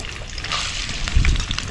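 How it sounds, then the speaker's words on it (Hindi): Soybean chunks tipped into hot refined oil for frying set off a fizzing, watery sizzle with a brief heavier splatter midway, close and fairly loud. "इसमें जो सोयाबीन है इसको हम फ्राई कर लेते हैं। तो सभी को एक साथ डाल लेते हैं।"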